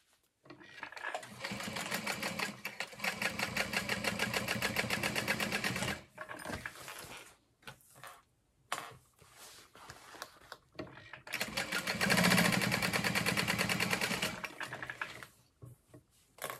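A sewing machine stitches two rows on a backpack, running close and loud in two long stretches broken by short pauses and handling sounds.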